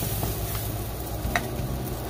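French toast frying in a pan just after being flipped: a steady, close sizzle with soft crackles, heard alone.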